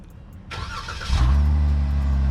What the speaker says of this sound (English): And to hear what this V6 sounds like, you're gonna double tap, give it a second